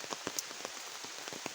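Rain patters steadily on the ground outdoors, a close, even hiss broken by scattered sharper drops, with no voices.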